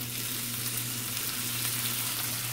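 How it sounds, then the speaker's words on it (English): Garlic sizzles steadily in a hot pan, a loud continuous crackling hiss with no voices. "I knew that was gonna sizzle like that."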